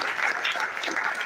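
Audience at an academic lecture on African politics and development applauding the lecturer, a steady dense wash of many hands clapping throughout, fairly loud and continuous with no talk over it.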